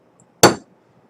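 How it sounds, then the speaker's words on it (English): A single sharp close tap of a hammer or punch, driving out the extractor of a 1911 pistol during disassembly, heard alone in a quiet room. "Now, you don't have to tap it out very far, about 1/8 of an inch"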